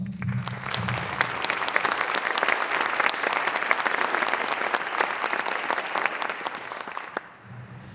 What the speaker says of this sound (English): please welcome Rachel Kowalski with our applause